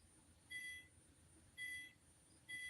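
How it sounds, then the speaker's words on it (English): Three short electronic beeps, high-pitched and steady, spaced about a second apart over a low background hum. "that beeping noise"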